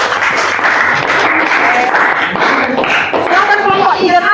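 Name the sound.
applause for group 2 in a classroom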